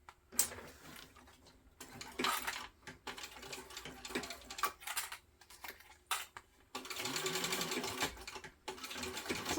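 A sewing machine bastes a backpack seam in short, quick bursts of rapid ticking stitches broken by pauses, ending in a longer steady run, fairly quiet and close.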